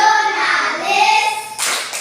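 Children in an elementary school classroom clap in unison for the PPK clap chant, a short, close burst of rhythmic hand claps heard over the tail of a held voice.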